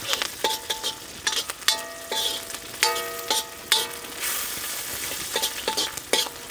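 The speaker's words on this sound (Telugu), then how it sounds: "ఇదంతా 1 నిమిషం పాటు వేయించుకోవాలండి" Curry leaves and cashews fry in hot oil in a pan for a restaurant-style chicken majestic starter. A close, steady sizzle runs throughout, broken by repeated clinks and scrapes of stirring.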